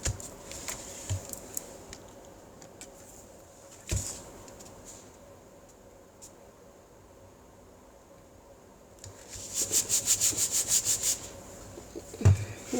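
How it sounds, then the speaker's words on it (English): A paper greeting card is rubbed firmly by hand to press a glued pop-up flat, giving soft scratchy friction noise with a burst of quick rapid strokes near the end and a few light taps. "Give it a good rub. Rub it up, dub, dub, dub."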